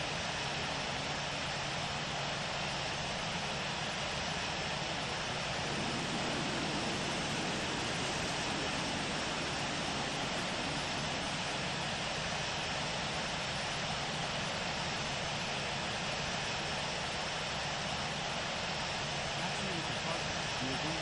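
American Airlines Boeing 777-300ER taxiing to parking in Infinite Flight, a steady broadband engine roar and hiss that holds constant throughout.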